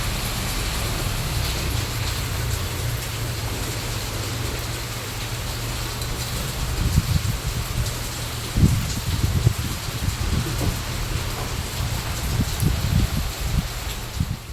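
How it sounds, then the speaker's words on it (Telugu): Heavy rain falls steadily as a dense, continuous hiss, with occasional low rumbling swells and no voices. "చూడండి వాన, ఆ రోజంతా వాన పడతానే ఉంది"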